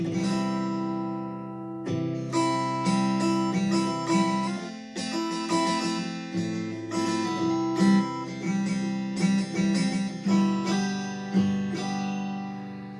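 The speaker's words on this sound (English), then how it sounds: "this first one is just an acoustic guitar to do finger picking with" Acoustic guitar picked with the fingers, ringing notes and chords in a gentle, steady pattern, played alone and close.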